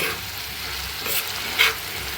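A thin vegetable bhaji with onion and green chili fries in oil in a pan, a steady close sizzle with faint stirring scrapes and no voices.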